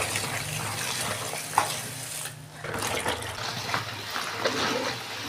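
Taro leaves (kochu shak) being washed in water, with a steady running, splashing wash from near, briefly dipping quieter midway before the sloshing resumes.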